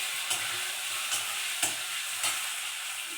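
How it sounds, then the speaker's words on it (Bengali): Dried chilies, whole garam masala, bay leaf and cumin seeds fry in hot oil, making a soft, even sizzle broken by about four brief sharp crackles or stirring taps, with no one talking. "তেলের মধ্যে শুকনো লঙ্কা আর গোটা গরম মশলা, তেজপাতা আর একটু গোটা জিরে ফোড়ন দিয়ে দিয়েছি"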